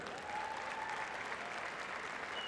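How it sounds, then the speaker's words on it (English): An audience at the 2012 NSAA Class C2 girls state basketball championship gives sustained applause, a dense, even wash of clapping that fills the arena from start to finish. "let's have another big round of applause"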